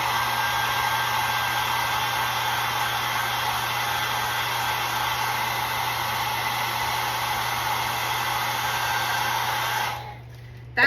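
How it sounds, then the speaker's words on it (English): A hair dryer blows steadily at close range with a constant whirring hum, then cuts off abruptly near the end. "I'm gonna blast it with my dryer right quick just so I can dry it really quick"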